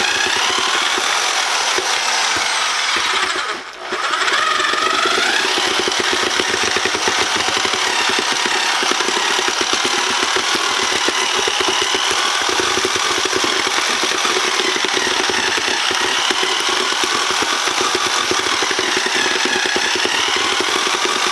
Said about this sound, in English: I'm going to take the drill, I'm going to mix this up.